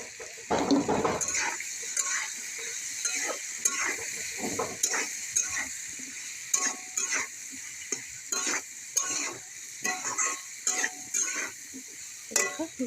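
Jackfruit and potato pieces sizzle with spices in a pan on the stove, with repeated metal spatula scrapes and clinks stirring them at close range and no speech.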